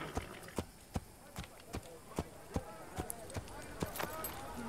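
Horse hooves clip-clopping at a steady pace in the video game Assassin's Creed, about a dozen evenly spaced sharp thuds over soft ambient game background, fairly close, with no speech.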